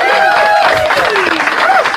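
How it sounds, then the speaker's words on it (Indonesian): Studio audience at an Indonesian discussion gathering breaks into sustained applause, dense and continuous for about two seconds, with whistle-like tones and voices mixed in. "Ya tepuk tangan untuk orang yang sakit hati"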